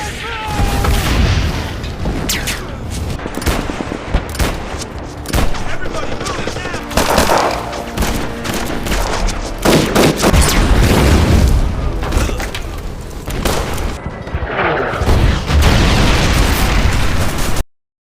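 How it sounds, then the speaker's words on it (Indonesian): Loud, continuous film battle noise: repeated heavy explosions and booms mixed with bursts of rapid gunfire, dense and close throughout. "Kemudian terjadi ledakan di sekitar yang mana memaksa mereka untuk berlindung sekaligus melancarkan serangan balasan"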